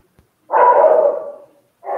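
Dogs barking somewhere near an indoor live coding session: one rough, drawn-out bark lasting about a second, then a second bark starting after a short pause, with no talking over them.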